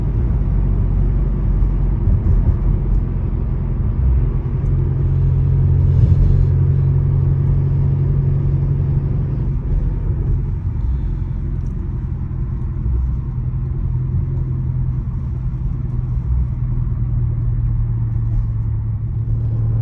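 Catless Dodge Charger Scat Pack exhaust drones in a deep, steady rumble while cruising at night, a heavy low engine tone holding near-constant throughout with slight shifts in load.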